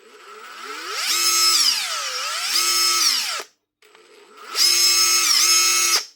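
Worn Makita 18-volt brushless nut gun with a slack anvil, spinning up to a loud, high whine that sweeps up and down in pitch. It cuts out briefly, then revs again for a second burst.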